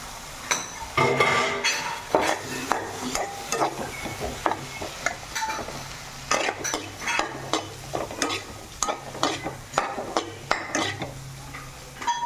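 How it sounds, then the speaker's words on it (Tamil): Kola fish pieces fry in a pan of spiced masala and yogurt over a low flame, under a bed of sizzling. A utensil scrapes and clinks against the pan in repeated, uneven strokes close by, with no talking. "அடுத்தது நான் எடுத்து வச்ச மீனை போடுறோம்"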